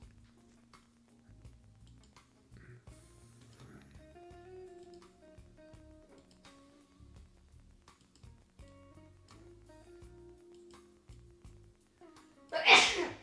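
One sharp, close sneeze at the very end, after a long stretch of quiet room sound with faint ticking.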